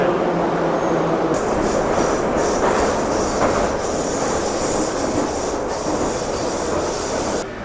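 An old, noisy metro train runs steadily in Uzbekistan, filling the space with loud continuous rumble, rattling and high wheel squeal from start to end.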